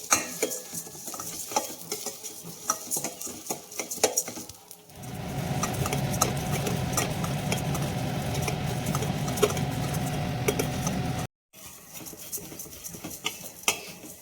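Ingredients fry and get stirred in hot ghee in a pan while carrot payasam is being cooked, giving a steady close sizzle with scraping strokes throughout and a brief break near the end.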